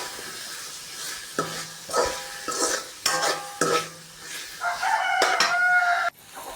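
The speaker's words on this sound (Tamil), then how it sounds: "இப்போ பார்த்தீங்கன்னா தக்காளி, வெங்காயம், கருவேப்பிலை எல்லாம் நல்லா வதங்கிருச்சு" Tomato, onion and curry leaves sauté in a pan for potato parotta filling, giving intermittent bursts of stirring and scraping over a soft sizzle, close and moderately loud, with a sustained hissing fry near the end.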